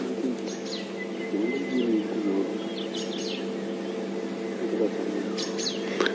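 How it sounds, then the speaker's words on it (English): A barred owlet calls during a safari drive, giving repeated soft, purring notes at a moderate distance over a steady engine hum, with faint chirps scattered through. "oh, it's actually quite an interesting bird calling."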